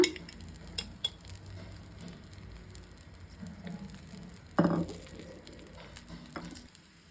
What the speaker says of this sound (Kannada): ಈ ಎಣ್ಣೆ ಹಾಕಿದ್ಮೇಲೆ ಇದಕ್ಕೆ ತುಪ್ಪ ಹಾಕೋಣ